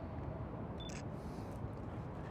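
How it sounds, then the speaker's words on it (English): Nikon S9900 compact camera focusing and firing its shutter, a brief high whirr and click near the one-second mark, close but quiet over a low background hum. "It makes loud noises every time you turn it on, every time you focus it, and every time you fire the shutter."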